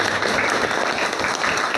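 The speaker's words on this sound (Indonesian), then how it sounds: "tepuk tangan buat teman kita." Classmates give a short burst of applause in a school classroom, a steady dense patter of clapping close by from start to finish.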